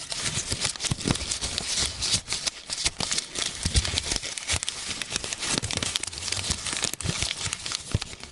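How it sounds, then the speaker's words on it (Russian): Toilet paper crinkles and crumples continuously, with rustling and light tearing sounds close to the microphone, no voices. "Туалетная бумага хоть. Такие звуки."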